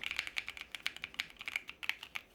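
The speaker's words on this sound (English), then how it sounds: "I didn't think I was gonna geek out on the sound of a keyboard." Steady typing on a Keychron Q6 Max mechanical keyboard fitted with banana switches, a quick run of crisp, close keystrokes in an uneven rhythm, with no voices.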